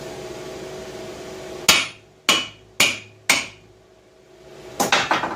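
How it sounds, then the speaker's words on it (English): A big hammer strikes welded-down metal four times in a steady rhythm, each blow ringing sharply, followed by a quicker cluster of clanging hits. "Working my big hammer."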